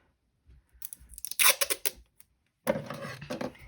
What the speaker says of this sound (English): Use my non-fabric scissors